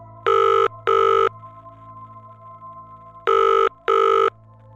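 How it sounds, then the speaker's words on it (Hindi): A telephone rings in an animated scary story, with two pairs of loud, clean double rings separated by a pause, sounding alone over a low steady hum. "पर किसी ने फोन नहीं उठाया।"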